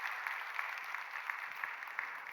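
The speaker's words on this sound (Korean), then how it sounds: "우리 박수로 한번 축복합시다" A church congregation applauds during a Sunday worship service, a steady, even wash of clapping heard faint and distant throughout, with no voices standing out.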